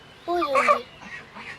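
Hungry domestic geese give a short burst of loud, nasal honking up close, followed by a couple of softer, fainter calls.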